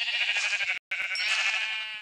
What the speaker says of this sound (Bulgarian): Тук има също овца.